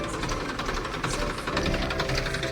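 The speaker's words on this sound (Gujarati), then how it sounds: "જોઈ શકો છો ટ્રેક્ટર આવે છે ફરવા" A tractor engine runs close by, a steady loud chugging drone with knocking pulses that holds for a few seconds without talk.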